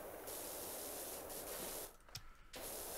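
In the video game PowerWash Simulator, a pressure washer sprays with a loud, constant hiss that briefly drops away for a moment before resuming.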